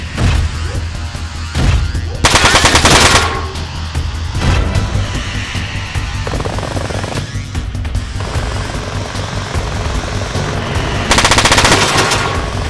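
Machine-gun fire aimed at a jet in the mech combat video game Front Mission 4, heavy rattling bursts near the start and again at the end over steady rumbling battle noise, with no talking.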